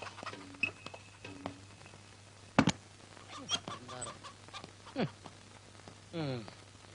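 A chicken clucks and calls a few times in a quiet room, with short gaps between the sounds and a rising squawk near the end.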